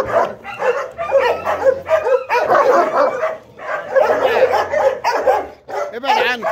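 A dog on a farm under construction barks and yips repeatedly in close, loud bursts, mixed with excited whimpering, while people talk over it.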